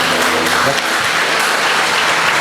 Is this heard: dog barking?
no